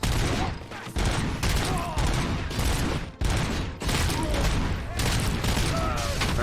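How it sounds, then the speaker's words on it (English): Dense, continuous gunfire and blasts from the RoboCop: Rogue City video game fill the whole stretch with loud overlapping shots and brief dips, while a player talks over it. "I shoot those guys in the balls."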